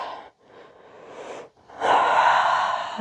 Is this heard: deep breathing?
yes